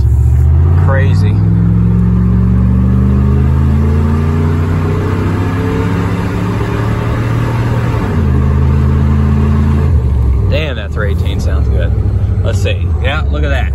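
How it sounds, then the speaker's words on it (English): A 2001 Dodge Ram 1500 pickup with a 318 Magnum V8 does a two-wheel burnout, its engine revving and holding a loud, steady roar with rising pitch, tires spinning, close by, with voices talking over it. "This truck burns tires like it should."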